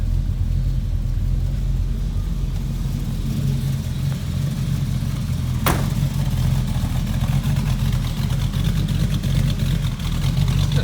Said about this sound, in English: I'm gonna fire it up, let you hear it running.